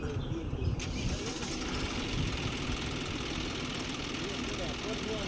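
A Joginder tractor engine runs steadily throughout a clutch play test, a continuous loud rumble with a brief sharp knock near the start and no clear talk.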